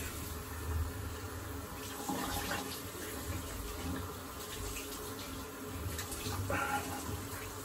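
Water runs steadily from a tap for a quick rinse, a continuous rushing and splashing wash that holds at a moderate level throughout.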